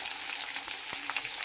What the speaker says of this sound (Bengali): ফুলকপিটা একটু ভাজা হবে,